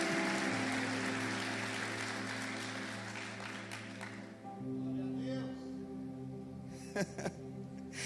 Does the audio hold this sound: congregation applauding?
yes